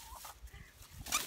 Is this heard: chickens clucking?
yes